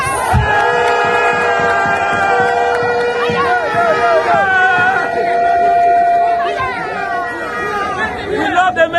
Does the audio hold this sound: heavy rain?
no